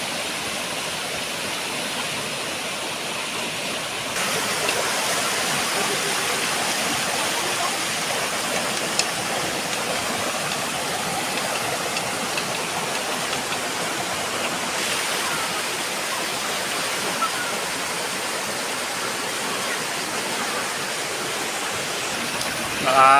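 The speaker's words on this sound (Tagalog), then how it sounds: "Yan guys, yung Mampahon River." Flowing water of the Mampahon River, a clear, clean, cold river, makes a steady, loud, broadband rush that runs continuously throughout without talk.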